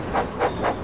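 A train backs slowly into a station, giving three soft, evenly spaced chuffs with a faint hiss over a low rumble, close and brief.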